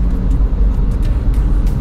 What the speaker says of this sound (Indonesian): Jadi RPM yang dipakai itu adalah suara dari raungan mesin.